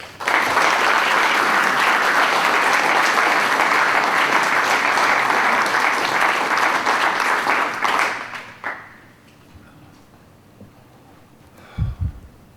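Audience applause for poet John Taggart at a Holloway Series poetry reading: loud, dense clapping from a full room for about eight seconds, then fading to scattered claps and near silence, with a few faint thumps at the end.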